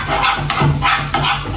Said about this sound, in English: And then I'll stir it up a little bit.